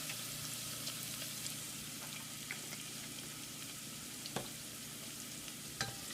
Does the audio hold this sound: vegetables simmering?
yes